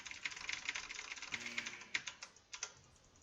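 Computer keyboard typing during a gaming session, a quiet run of quick, uneven key clicks and taps, close by, with a few heavier presses near the end and no talking.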